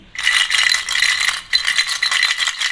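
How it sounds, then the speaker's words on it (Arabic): A toy rattle is shaken vigorously up close, producing bright, rapid clattering in two bursts separated by a brief pause. "اما العب بالشخليله تاني."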